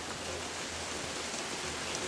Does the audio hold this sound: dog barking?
no